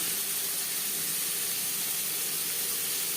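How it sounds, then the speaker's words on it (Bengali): Paneer frying lightly in a pan for a vegetarian matar paneer, giving a steady, even hiss of sizzling oil with no pauses and no talking. "পনির হালকা করে ভেজে নেব"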